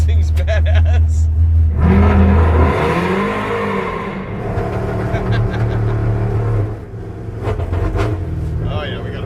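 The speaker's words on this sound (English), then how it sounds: "It's got a pretty serious wicked bog at part throttle." A hot-rod car engine running on the Bonneville salt flats bogs and stumbles at part throttle, a loud uneven drone that rises and sags with sputtering, with people talking over it.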